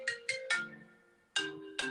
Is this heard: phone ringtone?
yes